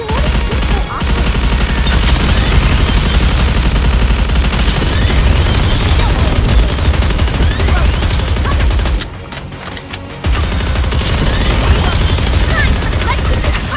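Dense, sustained automatic gunfire from the game Goddess of Victory: Nikke, loud and nearly continuous, with a brief lull near the end before the firing resumes.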